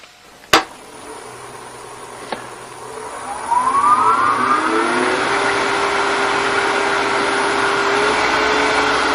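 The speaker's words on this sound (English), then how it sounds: "Then I'm going to crank the lathe up pretty high." Wood lathe in a workshop cranked up to around 2300 rpm: a sharp click, then a motor whine climbing in pitch over a few seconds and settling into a loud steady hum, close by, with no talk.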